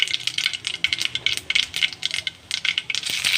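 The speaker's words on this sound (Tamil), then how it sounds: "கடுகு போட்டாச்சு." Mustard seeds popping and crackling in hot oil for a bean gravy, a dense run of sharp close pops and sputters coming in quick irregular bursts, with no voices.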